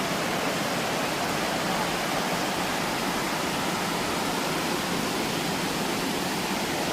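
A waterfall roars in a steady, dense rush of broadband noise, loud and close, unbroken throughout with no clear voices over it.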